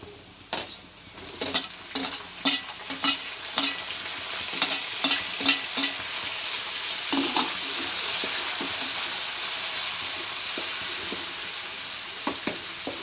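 Tomatoes, beans and curry leaves fry in a pan for homemade upma, a steady close sizzle with a spoon scraping and stirring in repeated strokes, unaccompanied by talk.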